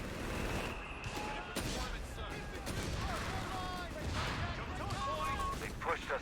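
Artillery barrage and gunfire in the Company of Heroes 3 real-time strategy game, US forces in a 2v2 match: a dense, continuous roar of fusillade and blasts with scattered sharp cracks, loud throughout, with a voice talking over the battle.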